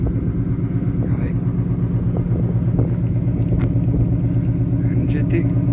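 A GT sports car passes on a town street near a second-hand shop in Manosque, its engine a steady, loud rumble throughout, with a person talking over it.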